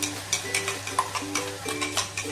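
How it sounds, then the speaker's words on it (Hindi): Masala with whole spices and garam masala being fried and stirred in a pan for a Konkani-style squid masala, giving soft scraping stirs every half second or so over a low steady sizzle. "इसको हम 5 मिनट तक ऐसे ही भून कर ले लेंगे"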